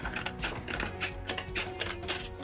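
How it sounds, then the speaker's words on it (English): Scissors snipping through paper while an Easter chick decoration is cut out, a quick irregular run of close, crisp clicks and rustles with no talking. "cut along that line with some scissors"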